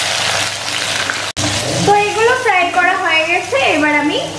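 Chicken pieces dropped into hot oil and frying with a loud, dense sizzle that surges after a short break, while a voice talks over it.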